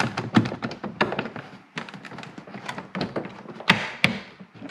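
A car kick panel on a 1995 Ford Mustang is slid and pressed into place, giving a close series of irregular plastic thunks, taps and knocks with no talk.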